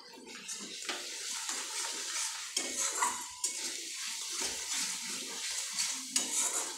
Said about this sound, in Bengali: এবার আমি খুব ভালো করে কষিয়ে নেব